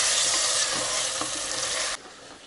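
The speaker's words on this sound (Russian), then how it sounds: "Добавляем картофель. Опять смешаем." Potatoes being stirred in a pan while cooking aloo matar, a dense, steady sizzle close by with a few scraping strokes, cutting off abruptly near the end to a faint hiss.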